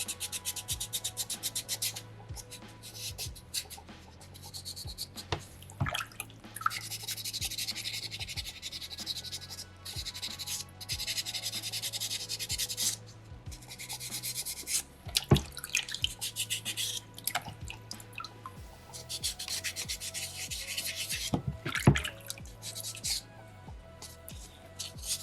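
Soapstone bear carving being wet-sanded with folded sandpaper, giving steady scratchy rubbing strokes with brief drips and rinsing splashes, close and continuous, with no talking.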